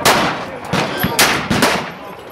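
.357 magnum revolvers fired outdoors at Burro Canyon, three or four loud, sharp reports spaced roughly half a second apart, each with a short echoing tail.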